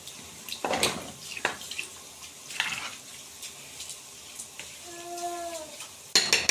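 Water poured into a pot of rice in a home kitchen, a few splashy bursts and a trickle heard close by, with kitchen clatter and a brief tonal squeak near the end.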